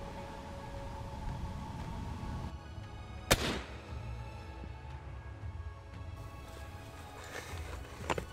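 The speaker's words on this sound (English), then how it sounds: "another fantastic shot, Gavin." A hunting rifle is fired once during a hunt in South Africa, a sharp single crack with a brief rumbling tail that rises out of quiet outdoor ambience.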